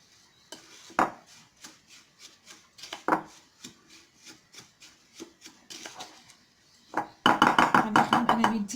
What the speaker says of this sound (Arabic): غنخدم انا بيدي باش نعرف نخلط مزيان.